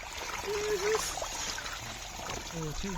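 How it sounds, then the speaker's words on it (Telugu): A thin stream of water trickles from a pipe in a farm field, a soft continuous dribble over quiet outdoor ambience with faint chirps. "ఈ వాటర్ సౌండ్"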